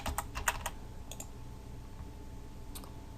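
A password is tapped out on a computer keyboard in a quick, faint burst of clicks, then a long pause, then a couple of isolated keystrokes against a quiet room hum.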